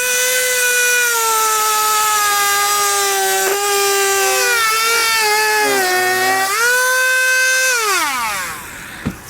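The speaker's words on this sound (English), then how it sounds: "We're going to go ahead and trim that up, then we'll retest fit the panel" A high-pitched power tool whines continuously while trimming a car trim panel during a hidden trailer hitch install on a 2013 BMW 3 Series, its pitch dipping and wavering under load before winding down, close and loud.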